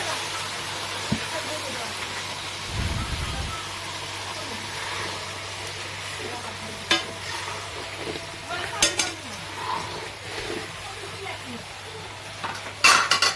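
Soft bubbling and faint sizzle from meat simmering in hot water with garam masala in a pot on the stove, with a few spoon clinks and scrapes against metal, close and fairly quiet.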